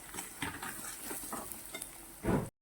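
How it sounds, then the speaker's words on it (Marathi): Spiced stuffing sautéed with garam masala in a pan, soft sizzling with scraping stirs and a louder scrape near the end before it cuts off, fairly quiet and close. "असं मस्त असा सुगंध येईपर्यंत आपल्याला सारण परतून घ्यायचं आहे"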